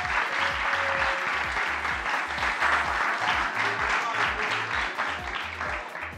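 An audience at a school show finale applauds loudly and steadily, a dense crowd of clapping over a rhythmic, thumping low beat of background music.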